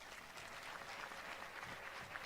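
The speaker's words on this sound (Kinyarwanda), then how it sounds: "twakomeye Imana amashyi" A church congregation applauds with continuous, dense clapping, heard faint and somewhat distant but steady throughout.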